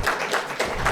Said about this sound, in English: If you want to clap, that's fine.